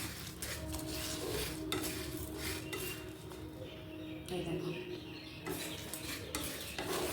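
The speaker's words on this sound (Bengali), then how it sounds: "এবার গোটা জিরে আর শুকনো লঙ্কাটা দিয়ে দেব ফ্লেম কিন্তু আমি একদম কম রেখেছি" Whole cumin and dried red chillies dropped into a pan over a very low flame while making a garlic mango pickle, giving soft stirring scrapes and metal pan clinks with only faint sizzling, steady throughout.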